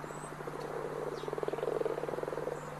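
Toad calling with a long pulsed trill that swells in the middle, a rapid rhythmic rattle over a faint steady hum, close and clear with no voices.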